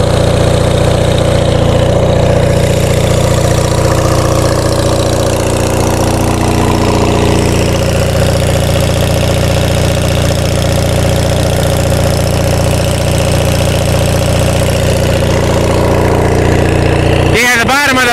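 An old, rusty Onan MDJE diesel generator set idles with a steady, loud, low rumble and a faint rhythmic knock, running continuously up close until a sudden brief disturbance at the very end.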